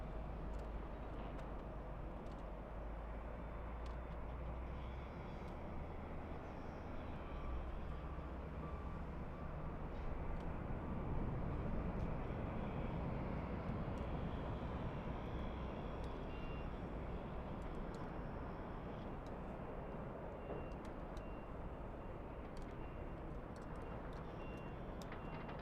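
A distant airliner climbing out after takeoff from LAX, a faint, broad steady roar that swells slightly midway and stays low under outdoor ambience.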